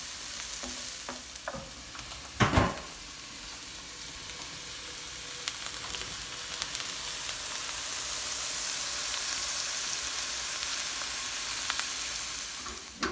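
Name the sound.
onions sweating and sizzling in a pan, being stirred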